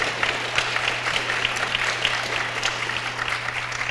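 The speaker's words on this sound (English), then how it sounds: "Audience, would you celebrate them with a round of applause?" An audience at a school board candidate forum breaks into a round of applause, a steady crowd of clapping hands with a low electrical hum underneath.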